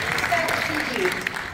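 A crowd at a Marcus Garvey and reggae celebration in Miramar, Florida, applauds an MC in a brief, dense burst, with a voice talking over the clapping.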